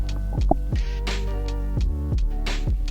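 A sewing machine stitches along the rounded edge of fabric face mask pieces, giving a loud, close rhythmic thumping and humming drone with regular repeating beats, no voices over it.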